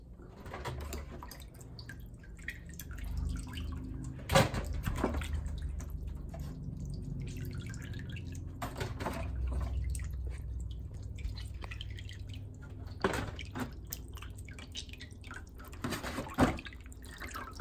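Water drips and splashes in a kitchen sink while chicken is washed for Ethiopian doro wat, a soft steady trickle broken by several sharper splashy drops, quiet and close with no talking.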